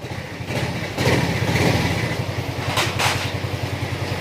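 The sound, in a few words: motorcycle engine idling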